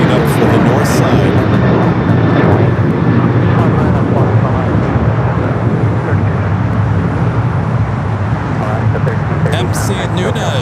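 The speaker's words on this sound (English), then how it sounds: "A321 Neo heading up for the north side" Airbus A321neo jet taking off from LAX, a loud, steady broadband engine roar filling the whole stretch, with faint voices underneath.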